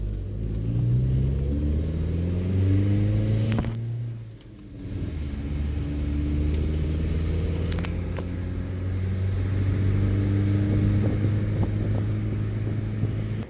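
A car fitted with a Forge 007 diverter valve drives through a neighborhood, its engine note rising and falling through gear changes, with a brief lull around the middle and wind rushing past the microphone.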